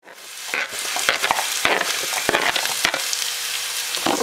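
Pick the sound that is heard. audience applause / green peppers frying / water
green peppers frying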